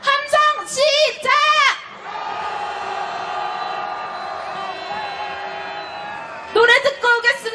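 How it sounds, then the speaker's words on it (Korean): A crowd at a nationwide candlelight protest march in Korea roars in a sustained shout for about four seconds, framed by a speaker's loud amplified voice before and after. "분노를 담아 함성 한번 질러보겠습니다. 함성 시작."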